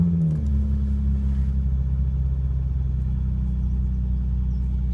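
A car engine that sat parked for five years rumbles at a low, steady idle close by, with a brief blip of revs at the start that settles back into a constant drone.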